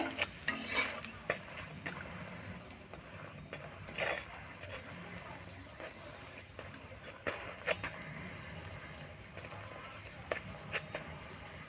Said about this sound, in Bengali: ভালো করে লাল লাল করে ভেজে নিতে হবে।